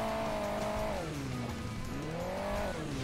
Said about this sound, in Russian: Еще одно раллийное авто за мной гналось.